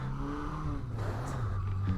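A Yamaha XJ 600 motorcycle engine revs hard and steadily on a steep mountain climb in the Pyrenees, the pitch rising and falling slightly as the throttle is held open, loud and close throughout.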